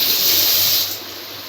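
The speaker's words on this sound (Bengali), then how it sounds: "নাড়িয়ে চাড়িয়ে ভেজে নেব।" Egg chow mein stir-frying in a pan over a high gas flame, giving a steady loud sizzle and hiss that eases off a little toward the end, with no voices.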